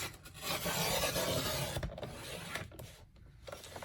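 Paper being trimmed for hinges on a Christmas mini album, a close, steady rasping slide of a cutter blade along the paper, easing off into softer scrapes and light taps.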